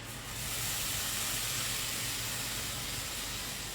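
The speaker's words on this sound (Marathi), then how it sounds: "ह्याच्यात मी आता हा आंब्याचा रस घालतेय." Mango juice poured into semolina roasting in a pan for mango sheera gives a steady, loud, broad hiss and sizzle that holds evenly for a few seconds with no voices over it.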